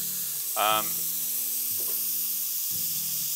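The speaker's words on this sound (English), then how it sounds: "my veggies are just about done caramelizing" Vegetables caramelizing in a pan give off a steady, soft sizzle and hiss, heard close and continuous beneath intermittent background talk and tonal hum.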